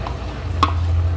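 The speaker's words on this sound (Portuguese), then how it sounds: "vou botar agora o bacon pra ele dar um gostinho mais encorpado do bacon" A spoon scrapes once through bacon and risotto in a pan, a brief stir over a soft, steady low hum, close and alone.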